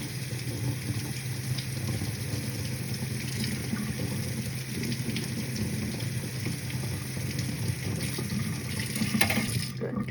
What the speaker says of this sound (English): Again, hot water